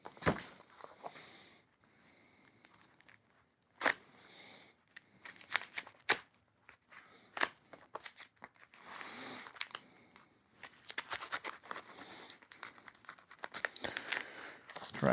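A taped-up mail package being cut open by hand, with crinkling, tearing and rustling of tape and cardboard in uneven bursts, close and fairly quiet, growing busier toward the end.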